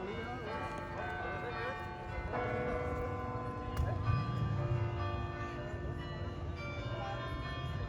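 Chiming bells ring out from the Bruges belfry in a sustained carillon tune heard across an old-town square, with a person talking, street bustle and a few hoof-like clops mixed underneath.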